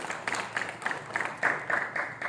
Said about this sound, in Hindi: मीडिया के लिए जोरदार तालियां।